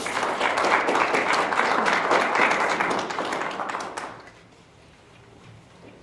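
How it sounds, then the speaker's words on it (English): A lecture-hall audience at a talk on Riga's wartime past gives dense, steady applause that carries on for about four seconds, then dies away into room quiet. "a round of applause"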